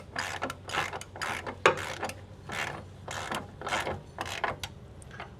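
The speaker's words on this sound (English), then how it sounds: "Make sure your ratchet is tightening the right way" A ratchet clicks in short repeated bursts while tightening a caliper bracket bolt on a Nissan 240SX S13, the quick pawl clatter coming up close and clear in a steady rhythm, with pauses between strokes.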